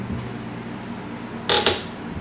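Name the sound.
creaking door hinge that needs oiling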